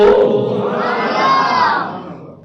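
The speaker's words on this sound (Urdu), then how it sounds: "نعرے تکبیر بلند کرن تساں نعرے رسالت لا دیو" Large crowd at a religious gathering raising loud, sustained chants, voices swelling together with a bright, shouting quality that rises and holds before tapering off.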